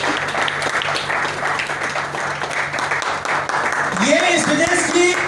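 Loud, sustained applause from a large audience at a business seminar in Berhampur fills the clip, and a voice over a speaker system joins near the end.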